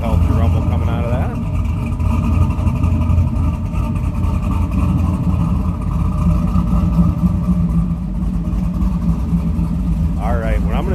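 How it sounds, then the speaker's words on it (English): A 1998 Pontiac Firebird Trans Am engine idles with a low, steady rumble close by at the rear, while a person talks briefly at the beginning and again near the end. "Nice little healthy rumble coming out of that."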